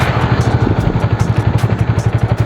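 A 2022 Bajaj Dominar 400 motorcycle engine runs close up during a test ride, a steady, fast rhythmic thumping with mechanical clatter and no break or change in pace.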